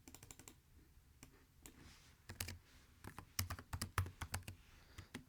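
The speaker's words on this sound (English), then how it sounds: "So anyhow, I will just type it here." Keystrokes on a computer keyboard, typed in quick uneven bursts with short pauses, close and clear with no talking.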